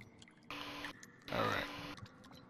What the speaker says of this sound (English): All this water noise makes me want to use the bathroom.